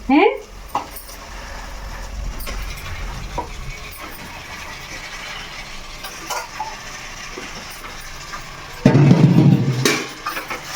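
A spoon stirs chicken with spices and fried onions in oil in a cooking pot, making intermittent scrapes and clinks, with a louder burst of stirring near the end over a low background hum.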